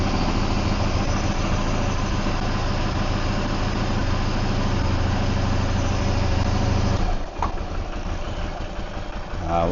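A Yamaha V-Star 650 motorcycle engine idles steadily and loudly up close with an even low rumble, then briefly dips after about seven seconds before settling back to a slightly rougher idle.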